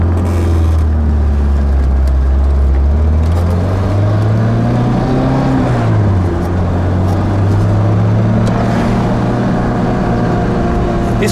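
A fuel-injected Lancia Zagato engine drones steadily while driving, its pitch climbing and then dropping around gear shifts, close and loud with no talking.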